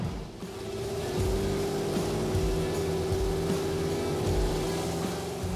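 Steady engine and road drone from inside a 1970 Plymouth GTX moving at about 45 mph, a constant low hum with faint rumble, continuous and fairly loud throughout.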